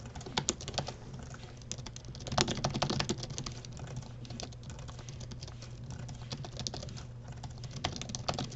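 Rapid typing on a computer numeric keypad during a typing contest, a dense, fast patter of light key clicks running steadily throughout at close range, with no talking.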